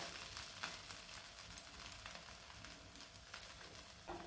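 Fasting dhirde crepe frying in ghee on a pan, a faint, steady sizzle with soft crackles running throughout and no talking.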